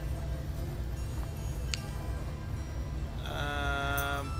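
In the video game Patron, a sheep lets out a single loud, wavering bleat of about a second near the end, after quieter ambient village sounds.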